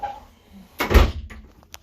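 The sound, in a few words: shower door opening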